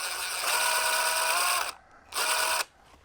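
A small mechanical whirring, like a powered driver unscrewing a part from a resin pump, runs steadily for over a second, stops, then whirs again briefly before falling quiet.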